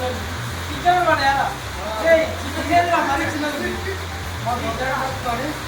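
Heavy rain pours down on an outdoor fishing trip, a steady broadband hiss running throughout while someone talks loudly over it.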